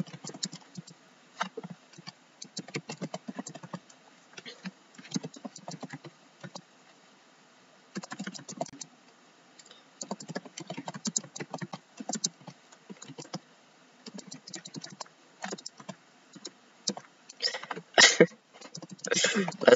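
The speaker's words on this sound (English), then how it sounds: "That's my typing skills right there." Rapid clicking of a computer keyboard being typed on, bursts of quick keystrokes separated by pauses, fairly close and quiet, with occasional throat clearing and soft vocal sounds.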